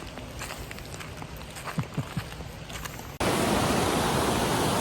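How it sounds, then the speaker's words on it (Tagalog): A creek flows beside a campsite: quiet outdoor ambience with a few soft footsteps gives way partway through to a loud, steady rush of running water that fills the rest. "Ang relaxing lang marinig ng tubig"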